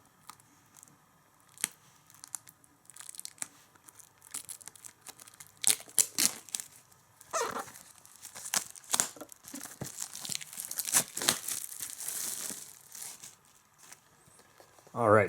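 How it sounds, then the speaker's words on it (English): Peeling a sticker off the shrink-wrapped cover of a Coach complete series DVD box set: scattered crinkling, tearing and plastic rustles build into denser bursts of ripping and crumpling, fairly close and moderately loud, with no talk. "we'll go ahead and open this up so I can show you what's underneath the sticker"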